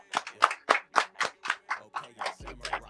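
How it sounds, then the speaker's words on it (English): A small studio audience gives a podcast guest a round of applause, steady claps in a quick even rhythm close by, with a low tone coming in near the end. "Let's give him a round of applause real quick."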